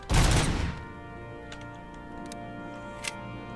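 A single loud blast from a futuristic sci-fi gun in a RoboCop video game, a sharp burst that decays over about half a second, then low ambient hum with faint clicks.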